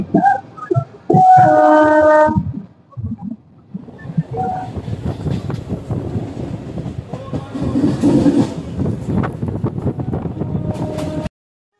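Bandel-Katwa local passenger train running on rails, a steady close rumble with rattling carriage noise and wind buffeting throughout, preceded by a short burst of a loud tonal sound near the start.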